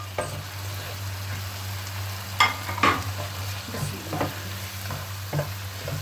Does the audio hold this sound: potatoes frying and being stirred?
yes